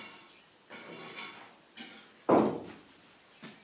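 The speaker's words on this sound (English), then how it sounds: "You'll be hammering on the side." A few separate knocks and clanks strike the side of a water tank mould after material is poured in, one sharper and louder thump standing out among lighter taps, with quiet gaps between blows.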